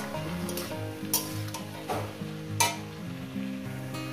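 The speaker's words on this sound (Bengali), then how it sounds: "এটাকে আমি ভালো করে এবার শুধু ভাজবো, কোনো জল পড়বে না।" Water spinach (kalmi shaak) with prawns fries in a pan over low gas with no water added. A continuous sizzle runs under several sharp scrapes and clinks as a spatula stirs against the metal pan. No one talks.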